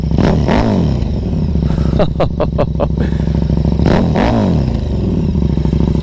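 A KTM RC8 V-twin sport motorcycle engine idles with a deep, lumpy rumble, then revs sharply several times in quick bursts before settling, loud and close.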